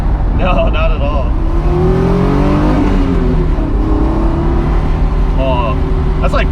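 An older Honda car engine pulls hard under acceleration with audible air intake induction noise, a loud rising drone heard from inside the cabin while occupants talk over it.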